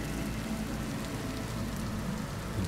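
Heavy rain in the video game Vintage Story pours down as a dense, unbroken hiss and patter at a constant loud level throughout, with no speech over it.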